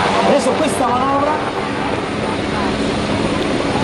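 An HH139 search-and-rescue helicopter flies a demonstration at the Jesolo European Airshow, its loud, steady rotor and engine roar filling the air while an announcer speaks over it.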